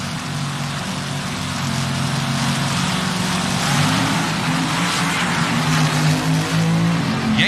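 A loud, steady engine roar with a low rumbling drone as a dragster revs hard in place during a burnout at the 1977 NHRA Springnationals, sustained throughout.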